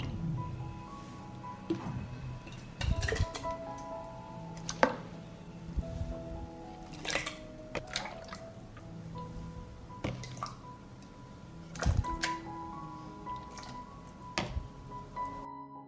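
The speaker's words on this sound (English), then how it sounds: "While the salad is hot, I immediately pour it into the jars." Hot salad spooned and poured into sterilized glass jars, with wet plops, squishy drips and occasional sharp clinks of utensil against glass, irregularly spaced and close by, with a faint background tone.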